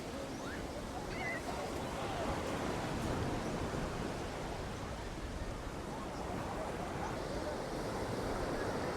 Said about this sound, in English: Boracay Beach, guys.